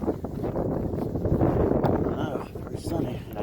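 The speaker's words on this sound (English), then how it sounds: "Very breezy." A breezy, sunny late-winter day with wind buffeting the microphone in a steady low rumble, while a person speaks over it.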